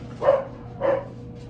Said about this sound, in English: Apparently the dogs think someone's here.